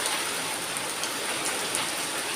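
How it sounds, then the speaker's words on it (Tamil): Heavy rain pours in a steady, dense hiss as rainwater is being collected at a village home, continuous and close with no voices. "மழை தண்ணி பிடிச்சிட்டு இருக்கோம்."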